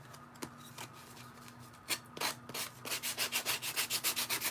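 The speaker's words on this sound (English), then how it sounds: "I think this needs a little bit of sanding" Hand sanding wood: a few scattered scrapes at first, then a quick steady run of about a dozen rhythmic back-and-forth strokes, close and fairly loud.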